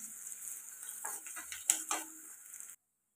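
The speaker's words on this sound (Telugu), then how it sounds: "5-6 వెల్లుల్లి దంచుకొని వేసుకుంటే సరిపోతుంది. ఇది కూడా ఫ్రై చేసుకోవాలి." Five or six crushed garlic cloves fry in a pan for a drumstick and moong dal curry, giving a steady hissing sizzle with a few stirring scrapes and utensil clinks, then stopping abruptly.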